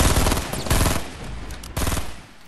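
Rapid automatic gunfire in a Fortnite match, loud and close, bursts of shots rattling in quick succession with a brief lull midway before another burst.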